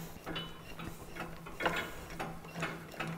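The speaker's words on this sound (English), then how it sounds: "Taking our tool here, we then tighten down the screws." A hand tool tightens the screws on an electric end-over-end drum mixer, giving a series of close ratcheting clicks and small metallic turns at an uneven pace over a faint steady hum.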